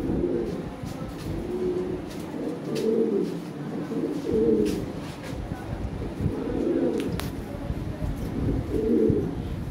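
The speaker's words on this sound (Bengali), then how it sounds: "ফার্স্ট ক্লাস কোয়ালিটি কবুতর।" Lahori pigeons coo in soft, repeated rounds close by, their low throaty calls rising and falling over a quiet background with faint chirps.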